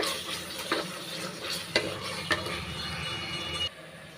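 Mutton is stirred with ground masala in a pot while cooking for biryani, a low sizzle under three distinct scraping stir strokes before the sound cuts off abruptly near the end, close and unvoiced.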